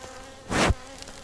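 Honeybees buzz in an opened hive during a colony inspection, a steady faint hum swelling into a loud close buzz as bees pass near, then settling back to a low drone.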